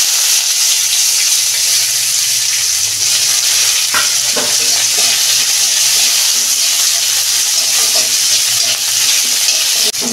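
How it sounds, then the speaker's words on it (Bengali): Onions frying in a pan with green chilli and nigella seeds for a fish curry with potato and eggplant, a loud continuous sizzle with occasional spatula scrapes and clinks, close up with no talk. "পেঁয়াজটা আমি একটু লাল লাল করে ভেজে নেব"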